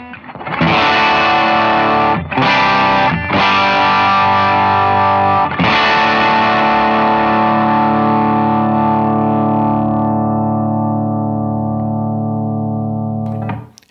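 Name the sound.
electric guitar through overdrive and compressor pedals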